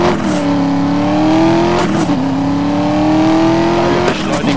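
A Mercedes sports car engine in Need for Speed Most Wanted revs up loudly, pitch climbing through several gear shifts with brief dips between, close and continuous, no talking.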